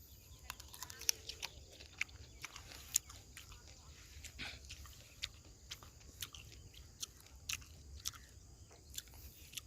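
Someone chews freshly picked organic garden produce close to the microphone, with crisp, irregular crunching bites repeating throughout over a quiet background.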